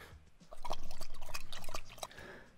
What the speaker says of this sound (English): Take a sip of water.